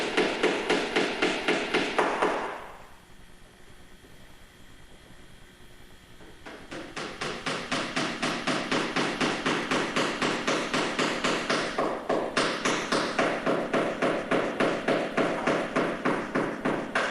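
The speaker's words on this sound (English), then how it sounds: "then I drive in 1/8 wooden dowels" Close, steady hammer blows drive 1/8 wooden dowels into epoxied boat planks during planking of a wooden boat, a rapid even rhythm that pauses briefly and then resumes for a long run of strikes.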